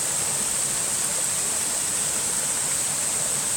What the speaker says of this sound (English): So the waterfall is up this way.